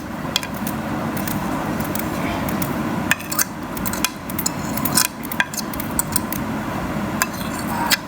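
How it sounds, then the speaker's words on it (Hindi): An onion is chopped with a knife on a board while making chicken paratha, giving irregular sharp clicks and knocks over a steady kitchen background, fairly close, with no talking. "प्याज को हम काट लेते हैं"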